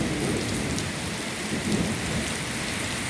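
Heavy downpour pours steadily with thunder and wind, a dense, loud, unbroken hiss of rain with a low rumble beneath it.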